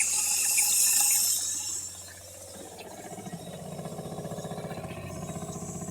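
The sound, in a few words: water running from pop up camper tank through pump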